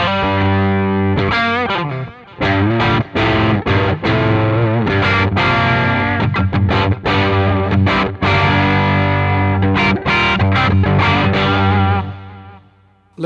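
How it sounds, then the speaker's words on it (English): Electric guitar through a Boss Waza Craft Tube Amp Expander with ambient and delay effects, played alone in a busy stream of distorted, chorused notes and chords with trailing echoes, loud and close. "Let me play a touch more with a bit of ambient,"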